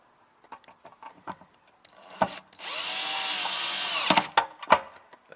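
A power drill with a Phillips bit drives a screw into a rolling transport tray, a loud steady whir lasting under two seconds, framed by close clicks and handling knocks before and after.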